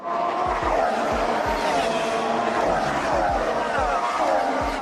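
Formula 1 V6 hybrid racing engine, loud and continuous throughout, with repeated low thumps and shifting engine tones that suggest cars passing or gears changing, over a constant roar.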